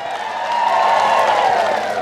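A church congregation claps for about two seconds, a dense, even patter of applause that swells slightly and then holds.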